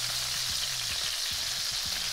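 Chicken pieces fry in a pan with a steady, close sizzle that holds evenly throughout, with a few faint stirring or scraping sounds beneath it.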